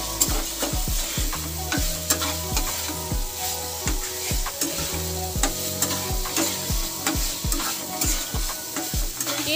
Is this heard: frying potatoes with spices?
yes